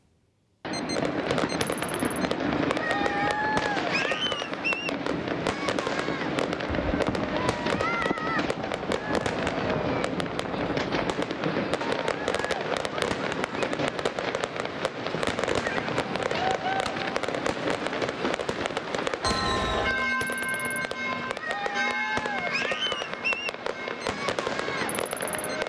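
New Year fireworks explode continuously over a city, a dense, loud barrage of crackling bursts and booms with no pause, heard from a distance with faint background noise.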